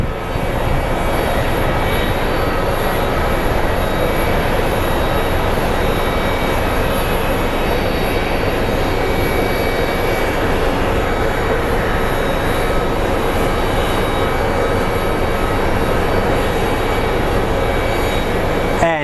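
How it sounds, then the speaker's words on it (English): An American Airlines plane from Omaha arriving at Phoenix Sky Harbor airport, its engines producing a loud, continuous broadband roar that holds steady throughout, close and without speech. "here comes the plane from Omaha"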